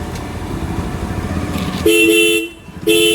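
A loud two-tone aftermarket dual horn on a Bajaj Pulsar N250 motorcycle sounds in two blasts, a long one then a short one after a pause, over engine rumble and street noise.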